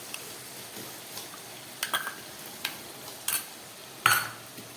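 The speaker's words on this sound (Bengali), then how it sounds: "এবারে আমি দিয়ে দিচ্ছি এই বেটে রাখা সর্ষেটা" Ground mustard paste goes into hot fish oil in a pan for a Bengali fish curry, giving a soft sizzle with a few distinct scrapes and clinks of a spoon stirring, spaced irregularly over quiet frying.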